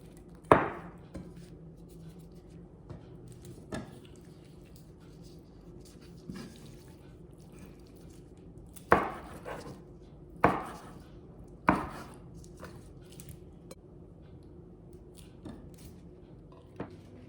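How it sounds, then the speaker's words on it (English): A knife chops shrimp into small pieces on a board: scattered sharp thuds, a few louder clustered strikes later on, over a quiet background with no speech. "let's cut the shrimp into small pieces"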